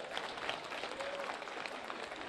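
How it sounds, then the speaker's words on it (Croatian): Applause from a carnival crowd at the Međimurje fašnik in Čakovec, a dense steady wash of clapping at moderate distance with crowd noise and a faint voice mixed in. "dajte jedan aplauz ove bijele anđele"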